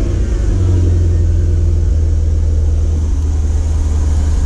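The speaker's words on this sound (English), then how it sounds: "It's not a really loud car, but it's nice sounding when it first starts." A 2012 Porsche Panamera Turbo engine runs just after starting, a loud, deep, steady rumble close by with a smooth throaty idle.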